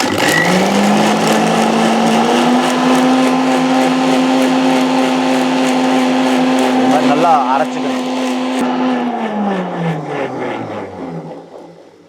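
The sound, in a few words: mixer grinder blending ginger and grapes into juice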